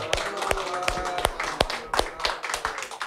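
A small crowd clapping at a stage show opening, sparse uneven hand claps with sharp individual hits rather than a dense roar, close by and without talk.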